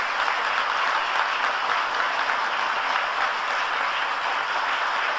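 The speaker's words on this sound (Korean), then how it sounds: "자리에서 일어나실 때 따뜻한 박수로 환영해 주시기 바랍니다." Warm applause from a church congregation during a Korean Sunday worship service, welcoming visiting guests as they stand; steady, dense clapping fills the large room at an even level throughout, with no talk over it.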